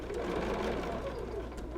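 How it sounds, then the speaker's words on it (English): A sewing machine runs steadily as it stitches binding on a table runner, a continuous close, even mechanical whir with fast needle rhythm and no breaks. "We are going to sew until we get about 3/8 of an inch away from our corner."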